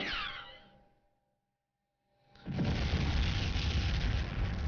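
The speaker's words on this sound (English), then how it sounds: "A very unspectacular explosion, but still counts." A video game explosion in the turn-based strategy game Starlight Tactics arrives after a quiet pause as a sudden broad burst, then a sustained loud rumbling roar that keeps going to the end.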